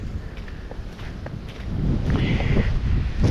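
Wind during a snowstorm on a walk to a convenience store, a steady rushing buffet on the microphone that grows stronger over a few seconds, mixed with faint crunching footsteps.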